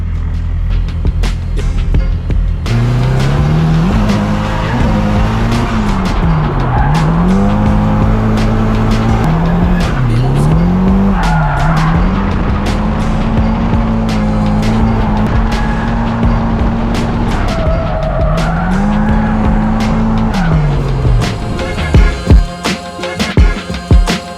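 Drift car on a practice run at a drift competition, engine revving loudly up and down with long tire squeals as it slides, continuous and close throughout before cutting off at the end.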